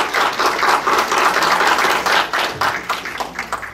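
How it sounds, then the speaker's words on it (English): Applause at a school district board meeting, a small group clapping loud and close in an uneven patter that thins out toward the end, with no talking. "I just want to give him a round of applause for that."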